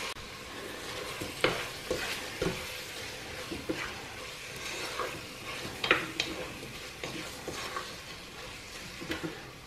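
Meat with onions stirred in a pan, continuous sizzling frying with repeated scraping and clinking strokes of a spoon at an irregular rhythm, fairly close and moderately loud, no voices.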